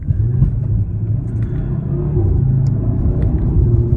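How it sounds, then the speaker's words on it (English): Audi TT RS five-cylinder car accelerating hard with all four wheels spinning, producing a loud, steady, deep engine rumble that holds close and constant throughout. "The feeling of a car spinning out all 4 wheels from underneath you."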